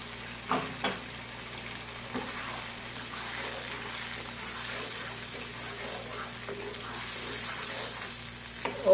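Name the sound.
frying tomato paste in a pan for ginger chicken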